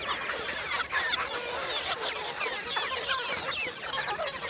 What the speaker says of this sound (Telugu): ఆరు వందల కోడి పిల్లలు తెచ్చాను